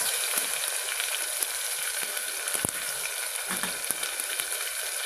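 Tomato and cut drumsticks fry in hot oil in a pan, a steady close crackling sizzle with scattered pops and occasional stirring scrapes throughout.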